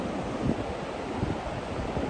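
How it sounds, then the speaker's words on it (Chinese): Sea waves wash onto a fine-sand beach at Dongshan Island as the tide ebbs, a steady broad rushing surf mixed with gusting wind, fairly soft and continuous with no voices. "海水也清澈，听听海浪声。"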